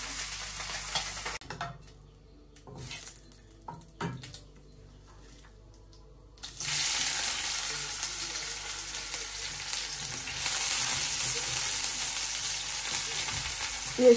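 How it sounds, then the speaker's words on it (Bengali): Belly fish sizzles as it fries in a pan. A quieter stretch with a few faint clinks gives way to a loud, steady hiss of frying oil that carries on to the end, with no voices. "এই বেলি মাছটা একটু ভেজে নেই"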